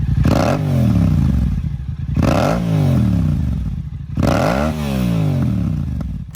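A Yamaha R7 sportbike engine revs hard three times in a row, each rev rising sharply then falling away, loud and close with a rough mechanical edge.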